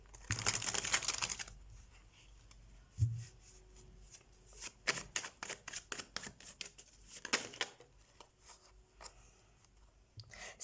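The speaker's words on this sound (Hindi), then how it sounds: "तो सबसे पहले हम कार्ड शफल कर लेते हैं आपके लिए कैप्रिकॉर्न" Tarot cards being shuffled by hand in a bursty, riffling flurry at the start, then a run of crisp card slaps and flicks, close and fairly quiet, with no talking.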